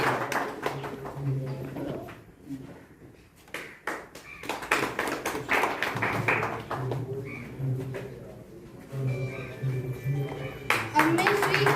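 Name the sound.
clapping to welcome guest at school ceremony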